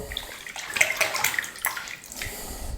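Running water splashes steadily from a tap, with brief clinks and swishes as a razor is rinsed under the stream.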